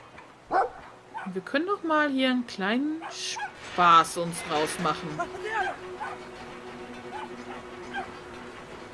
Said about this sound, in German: Voll die süßen Hunde